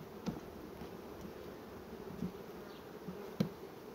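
Honeybees drone around a frame of honey lifted from a hive during an apiary inspection, a continuous near buzz with a few louder individual passes close by.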